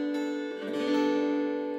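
A single acoustic guitar chord with the second string, D, muted, strummed once and left ringing in a close, quiet take with no talk.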